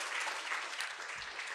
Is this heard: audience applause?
yes